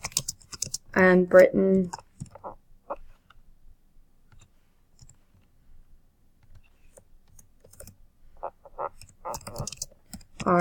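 Typing on a computer keyboard produces sparse, light clicking keystrokes in short bursts. A person speaks briefly before and near the end, and the quiet keys sit between the speech.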